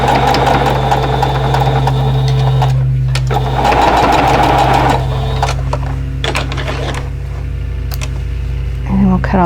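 Sewing machine stitching a quilt block, loud close mechanical whirring in runs separated by short stops, with someone speaking over parts of it.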